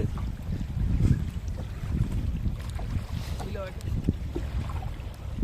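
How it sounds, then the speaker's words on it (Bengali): Strong storm wind buffets a small boat on a Sundarbans river, making a heavy, rumbling roar with gusty microphone noise and faint water sounds. "প্রচণ্ড তুপন হচ্ছে নদীতে"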